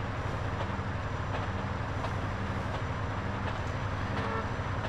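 A freight train in GTA San Andreas rumbles steadily past, a dense continuous low roar of rolling wagons with faint periodic clatter, loud and close throughout with no talking.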